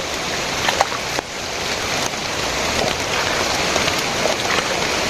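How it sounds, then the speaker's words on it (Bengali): Heavy rain pours outdoors in a village, a loud, dense and continuous hiss of drops with a few sharper splashes and no voices. "ভালো রকম বৃষ্টি আসতেছে"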